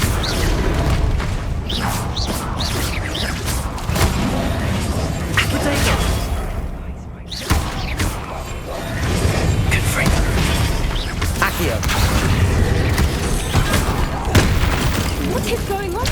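Fire spell effects from the video game Hogwarts Legacy: repeated bursting booms and whooshing blasts, loud and dense, with a brief lull midway, while a voice talks over the combat.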